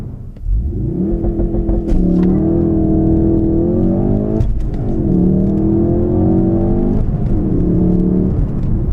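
A 2017 Ford Focus RS with the 2.3-litre engine accelerates hard, its loud close engine note rising through the revs in repeated pulls with brief gear-change dips, and no talking over it.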